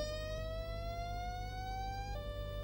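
A single sustained note from a Roland XP-80 synthesizer is steered by a pitch envelope, drifting gradually upward at an even volume and then settling with a small pitch jump near the end.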